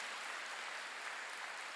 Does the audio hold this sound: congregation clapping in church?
yes